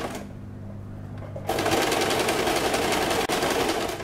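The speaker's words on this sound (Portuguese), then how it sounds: "Eu vou virar e passar novamente a costura zigue-zague." A sewing machine runs a zigzag seam on a bra, starting suddenly after a quiet pause and then hammering on in a loud, rapid, steady stitching rattle with one brief hitch near the end.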